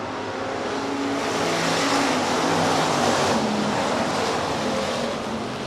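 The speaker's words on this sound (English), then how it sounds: "Green flag coming out for the Hobby Stock B feature." Hobby Stock race cars roar around the Rapid Speedway dirt oval in a steady, loud wash of engine noise with no letup, several motors blending into one continuous droning rumble.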